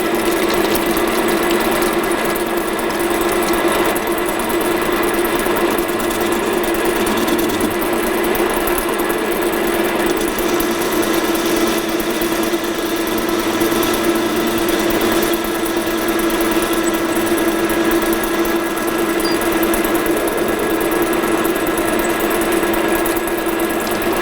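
Steady mechanical whirring of a metal lathe rough-facing a workpiece, a constant hum with a strong tone, running continuously and close by with no talking.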